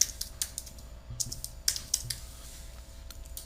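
Keys clatter on a computer keyboard in short bursts of typing separated by pauses, close by and moderately quiet, with a faint steady hum behind them.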